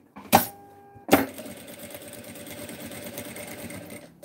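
A sewing machine stitches over a fabric label and strap: two sharp clacks, then a fast, steady mechanical run of needle strokes close by, without talk.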